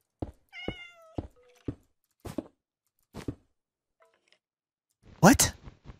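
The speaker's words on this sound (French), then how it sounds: "Ah, mais c'est le chat, je comprenais pas." A cat gives a short harmonic meow near the start, heard amid sharp clicks, knocks and clunks, while a person talks briefly near the end.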